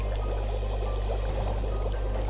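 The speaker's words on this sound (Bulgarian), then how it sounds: "Дебитът на водата е около литър до литър и половина в секунда." Water gushes steadily out of a pipe or outlet at roughly a litre per second, a constant close pouring rush over a low steady hum.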